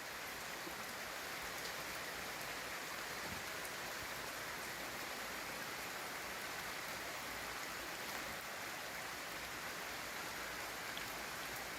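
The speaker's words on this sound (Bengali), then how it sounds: "প্রচুর বৃষ্টি নামতেছে, এই গুহার ভিতরে থাকতে তো বুঝতাম না।" Heavy rain pours outside a cave in the hills, a dense, even hiss of falling water that stays constant and moderately faint throughout, with no voices.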